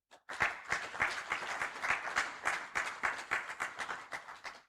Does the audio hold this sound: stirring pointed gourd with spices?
no